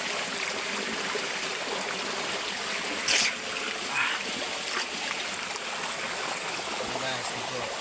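A stream below a waterfall rushes in a steady broadband wash, with a brief splash partway through and faint voices under the flowing water.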